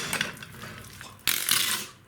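Pulled pork being stirred through BBQ sauce in a pan, wet squelching and scraping with utensil clinks against the metal, louder in a second burst of mixing.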